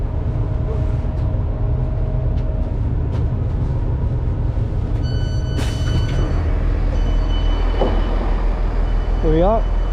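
A train rumbles into Frome station, a loud, steady low mechanical drone with squeals and brake whines building as it slows, and a person talks briefly over the noise.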